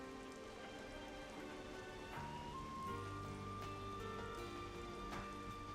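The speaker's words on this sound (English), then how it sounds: "Maybe because it's raining." Steady rainfall in the video game Xenoblade Chronicles 3, a soft continuous patter under faint background music, with no talking.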